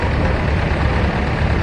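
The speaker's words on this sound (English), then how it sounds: "This is a David Brown Model 850 Implomatic." A David Brown Model 850 Implomatic tractor rolls past in a rally parade, its engine making a loud, steady, close diesel rumble with no talk over it.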